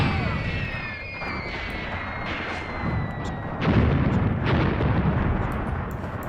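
Artillery and gunfire from a WWII tank battle video game set in Tunisia, 1943, with a continuous dense rumble of distant explosions and crackling shots, swelling into heavier booms partway through, no talking.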